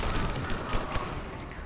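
Gunfire erupts in a Mass Effect firefight, a dense continuous fusillade of shots with a couple of sharper louder bursts standing out, steady and close throughout.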